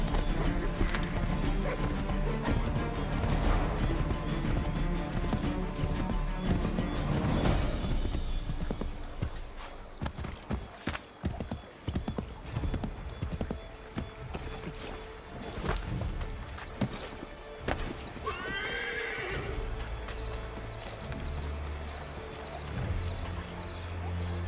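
Horses gallop in Assassin's Creed III, hooves clip-clopping in a fast steady rhythm, loud and close at first, then slowing to scattered hoof falls and a brief whinny over game ambience.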